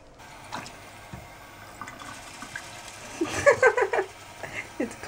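Cold water runs into a cooking pot while making mac and cheese, a short burst of splashing and filling near the middle among faint kitchen clatter and quiet surroundings.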